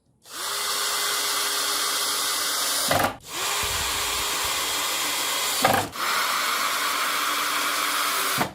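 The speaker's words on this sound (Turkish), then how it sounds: "malzemelerimizin içerisinde yer alan en büyük vidalar ile bu kısmını da güzelce vidalıyoruz" Power drill driving the largest screws into a multipurpose eight-compartment cabinet during assembly: three long steady whirring runs, each cut by a brief pause and a clunk, loud and close with no talking.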